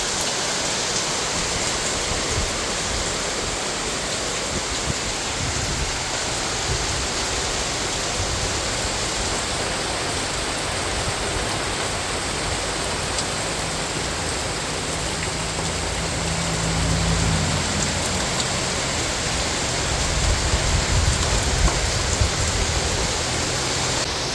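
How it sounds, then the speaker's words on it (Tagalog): Constant heavy rainfall on a hut roars without a break, a thick wash of noise that swells slightly toward the end. "Grabe po ang ulan."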